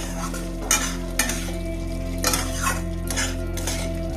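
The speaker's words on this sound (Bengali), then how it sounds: "ভালো করে নেড়ে চেড়ে আমি আবার ঢাকা দিয়ে দেব" Matar pulao (pea pilaf) being stirred in a pan over a low flame, with intermittent scraping and clinking of a spoon against the metal and a steady sizzling hum underneath. No talking.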